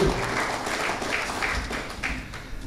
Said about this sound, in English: give the previous executive committee members a warm round of applause